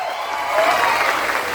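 A church congregation breaks into applause, a dense, steady clapping from a crowd that swells slightly midway and holds without pause.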